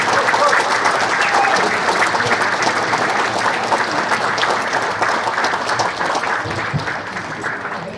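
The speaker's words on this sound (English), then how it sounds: "let's applaud for him" Sustained applause fills the room at a veterans appreciation luncheon, with voices mixed into the crowd. It stays loud and dense before thinning slightly toward the end.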